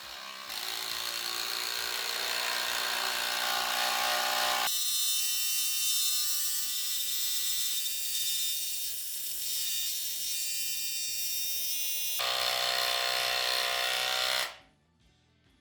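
An oil pulse impact driver runs close by with a loud, steady high-pitched whine, shifting pitch partway through before cutting off abruptly near the end.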